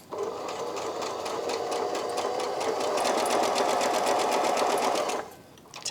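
A Brother My Star 3 sewing machine runs a zigzag stitch, a close, steady rapid mechanical whirr with even clicking that holds for about five seconds before stopping abruptly.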